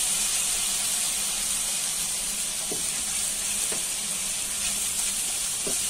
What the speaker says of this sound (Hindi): अब हम इसके अंदर लहसुन अदरक का पेस्ट शामिल करेंगे, इसको भी अच्छे तरीके से